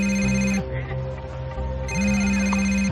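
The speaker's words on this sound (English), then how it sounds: "Noticed that my sister's phone kept ringing," A mobile phone ringtone rings loudly and close, one burst of repeating electronic tones, a short gap, then the ringing starts again.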